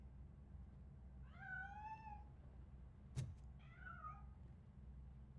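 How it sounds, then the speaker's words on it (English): A cat meows twice in Robocop Rogue City, two short rising-and-falling cries separated by a sharp knock, heard faintly over a low steady background hum. "That cat must be hiding inside."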